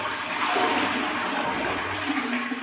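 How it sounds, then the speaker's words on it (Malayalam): A toilet flushing in a bathroom, a loud continuous rush of water close by that holds steady for the whole stretch. "ഇതുപോലെ ഒന്ന് ഫ്ലഷ് ചെയ്ത് കഴിഞ്ഞാൽ"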